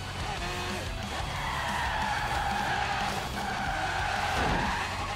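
A van skids sideways through a corner in Forza Horizon 3, its tires squealing in long wavering whines over a constant engine drone, loud and close, while a voice talks over it.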